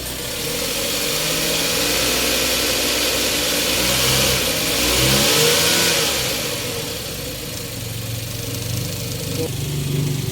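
Suzuki DA64W engine running close by with a steady idle hum that swells into a rev and eases back down, while people talk over it.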